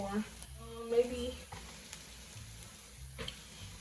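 Cauliflower shrimp fried rice stirred in a frying pan, soft scraping and faint sizzling with a few clattering utensil strokes, quiet and close.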